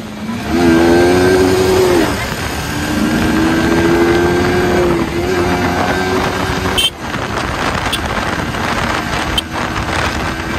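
A Royal Enfield Bullet 350 and a Yamaha R15 155 motorcycle racing on a road, a loud continuous engine drone with a pitch that rises and settles, heavy wind buffeting the microphone throughout.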